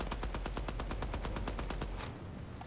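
Rapid automatic gunfire in the video game Deadrop, a fast steady burst of shots that stops near the end, loud and unbroken, no talking.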